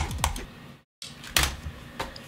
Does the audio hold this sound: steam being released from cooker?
no